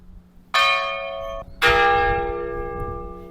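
Two loud church bell strikes ring out in succession, each leaving a long shimmering, slowly fading tone, close and without voices.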